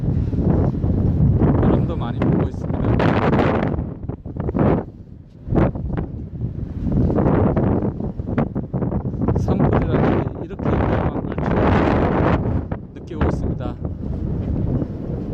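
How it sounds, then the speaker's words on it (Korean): Strong wind blowing hard near a wildfire in Namhu, Andong, a steady loud roaring rush with gusts, while a reporter talks over it throughout. "강한 바람이 불고 있고요"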